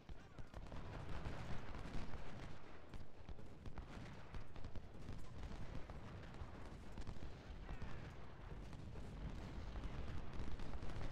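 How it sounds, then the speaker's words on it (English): Continuous battlefield barrage of artillery and rifle fire from the Ultimate General: Civil War strategy game, a dense rumbling roar of overlapping booms and crackling shots that stays loud and steady throughout. "Our artillery's shooting over here"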